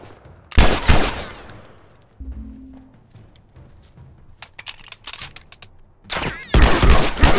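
Rifle gunfire in The Last of Us, loud bursts of automatic shots near the start and again at the end, with scattered single cracks and quieter game sounds in between.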